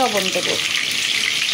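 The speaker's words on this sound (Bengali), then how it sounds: "তেলটা গরম হয়ে গেছে, এখন আমি ডিমটা ভাজে নেব।" An egg fries in hot oil in a pan with a loud, steady, close-up sizzle, and a person speaks briefly over it at the start.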